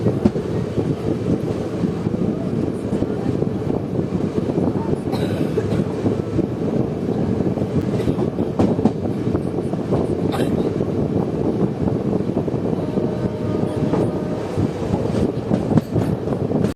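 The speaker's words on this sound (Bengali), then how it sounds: "আমাদের ট্রেন সিগন্যাল পেয়েছে এবং ট্রেন ঢুকছে এখন খানা জংশন রেলওয়ে স্টেশন" The 13028 Azimganj Kaviguru Express enters Khana Junction on the Howrah–New Delhi main line, heard from on board as a continuous close rumble of wagons and wheels with faint rhythmic clicks and occasional squeals, with no talking.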